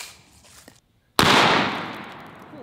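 A Mossberg Shockwave 590 fires a single 12 gauge mini shell with one sharp, very loud blast at close range. A long decaying roar follows, after a short moment of quiet and faint handling noise.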